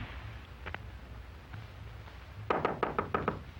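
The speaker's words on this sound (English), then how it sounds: "Then came a knock." A door knocked in a quiet room: a faint double tap, then a loud run of about six sharp raps in quick rhythm.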